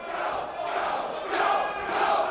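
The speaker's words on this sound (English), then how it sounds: "This crowd is feeling it." Wrestling arena crowd at a Samoa Joe versus Styles match cheers and chants in loud rising swells, with a few surging peaks of excitement over a constant crowd bed.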